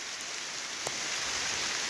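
Steady rain falls during an early-morning fishing outing, a dense even hiss throughout with a couple of faint sharp ticks from drops, and no voices.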